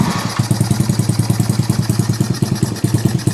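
A Yamaha Zuma / BWS scooter engine runs close and loud at a low idle, a rapid even chugging pulse with slight fluctuation and a metallic clatter on top.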